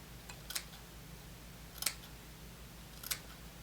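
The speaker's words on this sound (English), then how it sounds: "So I'm gonna actually end up trimming a little bit of this off" Scissors trim a dubbing loop while tying a fly for a spinnerbait, giving three sharp, faint snips spaced about a second apart over a quiet room hum.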